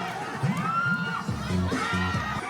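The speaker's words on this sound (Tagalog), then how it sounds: "masigabong palakpakan mula sa mga manonood" A crowd of spectators cheers and shouts continuously at a Filipino veterans basketball league event in Barcelona, with higher children's whoops mixed into the loud, sustained roar of the audience.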